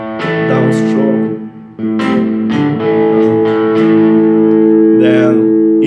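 Electric guitar fingerpicking a song's rhythm, alternating thumb, index and downstroke into a continuous stream of ringing notes and chords, played up close and steady for several seconds with a brief dip partway through.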